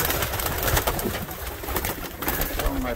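A homing pigeon coos softly in a loft amid rustling and background noise, close by with low repeated calls.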